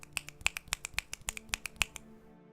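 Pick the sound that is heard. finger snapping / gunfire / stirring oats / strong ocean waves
finger snapping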